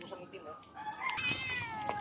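A house cat meowing outdoors, a few short, faint cries mixed with background voices and rural ambience.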